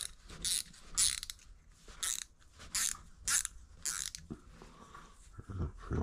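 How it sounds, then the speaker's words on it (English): Metal nut being threaded onto a bolt on a custom-built bicycle, a series of sharp clicking, ratcheting bursts at an uneven rhythm, close and fairly loud with no talking. "You gotta be careful not to cross thread these."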